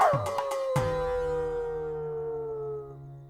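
A dog howls nearby in a single long, wavering tone that slowly fades, preceded by a few sharp knocks, with no speech over it.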